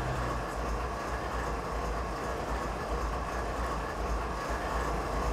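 A Canadian Pacific ES44AC hauling a grain freight train through the mountain passes in Train Simulator 2015, a steady low rumble and rolling drone of engine and wagons, continuous and fairly loud with no talking.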